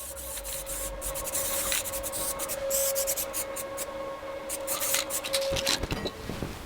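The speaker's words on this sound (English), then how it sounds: "first I will spray the inside while I can get at it, and I'm just going to put a primer on" Primer sprayed from an aerosol can inside a rusty car's lower front outer sill panel during repair, short hissing bursts and rubbing scrapes close by, with a steady tone underneath.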